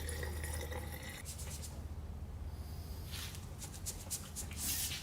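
Coolant mixed with distilled water is poured to top up a racing driver's Chillout Systems cooling unit, producing a close gurgling liquid fill with splashy trickles and some handling noise over a low hum.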